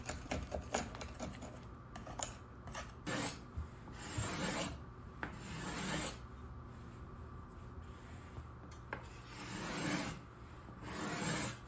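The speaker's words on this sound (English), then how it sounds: "Once the top was dry, I cleaned up the squeeze out and went to work scraping the top." A scraper works across a dried, glued wooden tabletop to remove glue squeeze-out. Long rasping strokes repeat in bursts, close and fairly loud, with no voices.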